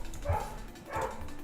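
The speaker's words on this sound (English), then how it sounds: "Sorry for the dog bark." A dog barks twice, faint and muffled in the background with a low steady hum throughout.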